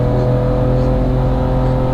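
A 2023 Ford Ranger Raptor pickup with a 3.0-litre petrol engine pulls hard uphill. A loud, steady engine drone holds throughout the short burst of acceleration.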